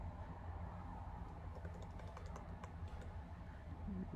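Rapid, light clicking of a computer keyboard as a file name is typed in, soft and steady over a faint background hum.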